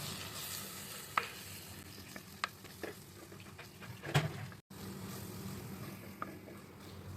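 Chili masala powders with a little fenugreek and asafoetida powder fry in oil for a fish curry, a soft continuous sizzle broken by scraping clicks of a spoon stirring at intervals.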